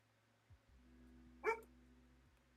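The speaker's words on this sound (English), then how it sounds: "Dog is being noisy." A single dog, Jasper, gives one short, sharp bark indoors at moderate distance, preceded by a faint thump, in an otherwise quiet room with a low hum.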